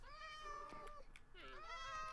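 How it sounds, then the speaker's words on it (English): Minecraft cats meowing in a game, a few close, clear drawn-out meows in quick succession, fairly soft. "So we have to tame all these cats"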